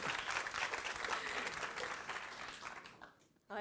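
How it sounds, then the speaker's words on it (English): An audience applauds a business speaker at a talk on growth by acquisition, steady dense clapping that carries on for about three seconds before tapering off quickly near the end. "Give him a big round of applause, please."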